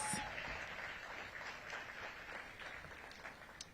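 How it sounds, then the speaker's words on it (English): Faint, distant applause from an audience at a city government event, a soft steady wash of clapping with no voices standing out. "let's give Ariana a big round of applause"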